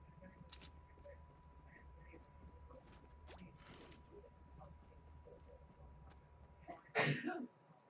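A single sharp sneeze bursts out near the end, loud and close, after a stretch of quiet room noise with faint background voices.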